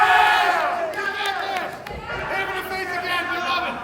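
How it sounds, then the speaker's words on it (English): Pro wrestling crowd at an indoor show cheering and shouting continuously, loud and steady, with a commentator talking over it throughout. "The crowd, and this is a first here in Primetime Pro Wrestling, the crowd firmly behind the Aztec Warrior, Izzy Reyes."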